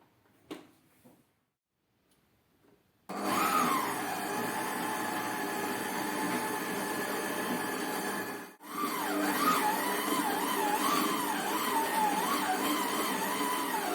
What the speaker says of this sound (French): Moi, je le fais au robot, à vitesse 1.